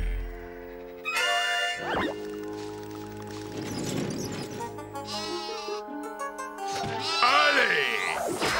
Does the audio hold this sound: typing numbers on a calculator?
no